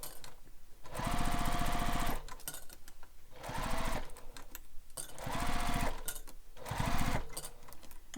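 Sewing machine stitching a beach bag, running in several loud, steady bursts of rapid needle chatter with short pauses between them, close and alone with no talking.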